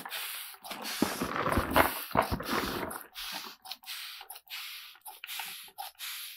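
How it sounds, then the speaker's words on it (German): Short bursts of water sprayed onto a potting soil mix, soft hissing mists with rustling and scraping of the substrate between them, close and fairly quiet. "Damit es beim weiteren Vermischen nicht so staubt, sprühe ich einmal ganz kurz Wasser drauf."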